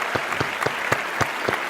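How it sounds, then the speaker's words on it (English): Moderate applause from a small audience, with scattered claps at an uneven rhythm, heard briefly and without voices. "Give him an applause."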